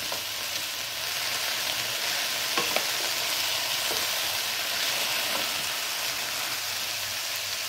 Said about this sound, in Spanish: vamos a agregar lo que son los champiñones o los mushrooms